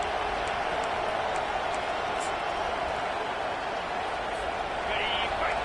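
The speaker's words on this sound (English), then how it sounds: "Decibels rising as the crowd gets behind this defense on 3rd down." Crowd cheering in an American football video game during a third-down defensive stand: a dense, steady roar of stadium noise that stays loud and level throughout.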